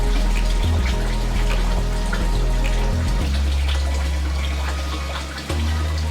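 Water streams steadily from a tap into a casserole dish of scalloped potatoes, a loud continuous rushing pour with a shifting low tone as the level rises, briefly faltering near the end.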